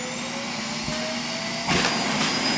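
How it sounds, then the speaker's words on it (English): A household vacuum cleaner whirs steadily indoors, its broadband roar swelling louder partway through the short stretch, with no talk over it. "My vacuum cleaner started."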